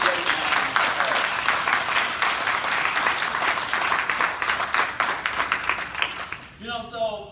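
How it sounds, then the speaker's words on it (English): Warm applause fills the room at a family legacy reunion, many people clapping steadily for several seconds before it tapers off and a voice begins speaking near the end. "So let's give both of them a really great round of applause."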